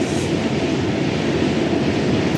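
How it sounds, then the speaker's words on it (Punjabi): A train rumbles past behind a riverbank along the Sutlej, a loud, dense and continuous roar that holds steady throughout with no voices. "ਟ੍ਰੇਨ ਆ ਗਈ ਪਿੱਛੇ"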